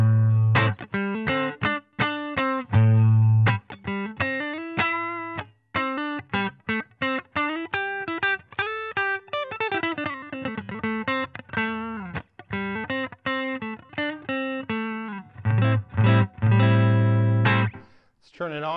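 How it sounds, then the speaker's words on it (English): Electric guitar played clean through the neck and bridge pickups, a run of distinct picked notes and chords with ringing sustain, fairly loud and up front. "So here's my clean tones here."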